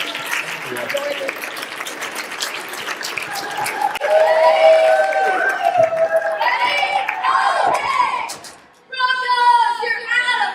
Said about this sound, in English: Why don't you give her a round of applause? Hit a round of applause.